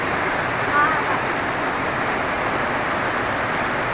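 Strong floodwater rushing after heavy overnight rain, a loud, steady broadband roar of flowing water close by, with faint voices in the background.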